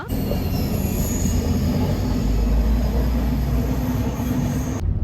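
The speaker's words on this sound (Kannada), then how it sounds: "ಟ್ರೈನ್ ಎಲ್ಲ ಹೋಗ್ತಿದೆ ಅದು" A train on the line toward Goa rolls past nearby, a loud, steady rumble of wagons and wheels with a high metallic squeal riding on top that lasts through the whole stretch.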